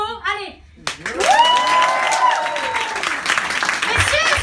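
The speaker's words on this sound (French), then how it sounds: "Alors moi j'aimerais un tonnerre d'applaudissements." Audience applause and cheering at a live evening show, a sustained wash of clapping that swells after a short quiet gap and carries on with whoops and shouts over it.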